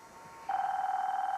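A telephone starts ringing partway through with a loud electronic warble that pulses rapidly and evenly, following a quiet moment.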